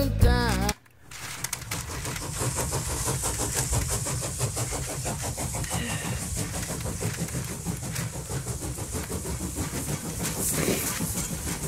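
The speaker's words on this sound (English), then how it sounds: "whenever I release the lever and make the gears actually go" A wound-up Ugear locomotive brain teaser puzzle with its gears running: a brief click, then a steady, close whirring clatter of meshing gears that continues for about eleven seconds.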